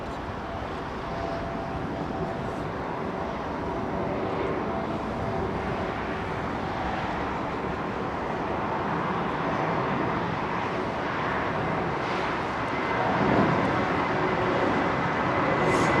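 A China Eastern airliner departs London Heathrow's runway 09R, its jet engines a steady broadband roar that holds strong throughout, with no one speaking.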